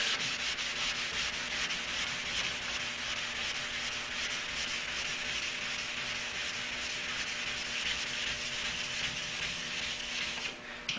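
Steady, continuous wet sanding across a primed Duramax pickup truck bed, a close, even rubbing hiss with no pauses and no talking.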